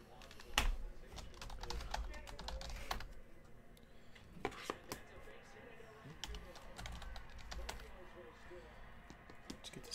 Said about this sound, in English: bear with me here as I type all of these hits in.